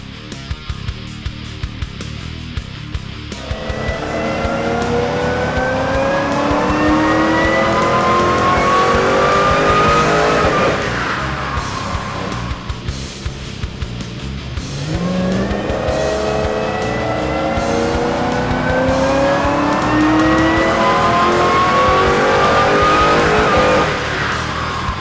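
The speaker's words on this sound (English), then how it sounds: "while Tim has a second tune flashed into the car and is ready for another run." A race car on a dyno tuning run after a new tune is flashed, its loud engine climbing through long rising revs, briefly dropping and then revving up again, continuous and close.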